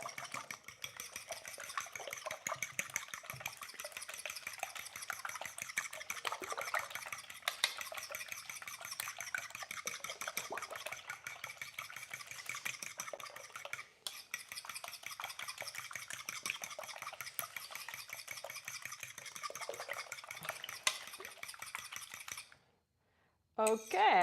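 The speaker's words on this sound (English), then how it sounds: "So I'm going to, continue doing whisking." Eggs whisked in a bowl for a carnivore breakfast pie, a steady rapid scraping and tapping of the whisk that runs continuously at moderate level, stopping briefly near the end.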